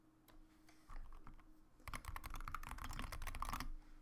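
Rapid clicking of a computer keyboard being typed on, close and fairly loud, with scattered keystrokes at first and then a dense continuous burst of typing before it stops.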